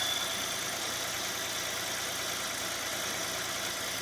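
A Kia Picanto engine idles steadily at close range, an even, continuous mechanical hum with a faint ticking texture and no speech or revving throughout.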